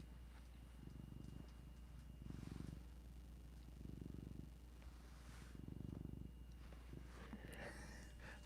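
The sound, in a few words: cat purring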